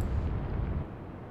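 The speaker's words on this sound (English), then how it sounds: "we're getting secondary explosions here" Secondary explosions aboard a warship in the naval combat game Atlantic Fleet, a sustained low booming rumble that fades slightly toward the end, loud and without talk.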